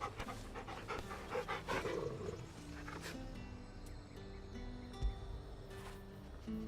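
A dog pants in Final Fantasy XVI, steady breathy huffs close up, heard alone over a low, continuous game music bed with no talking.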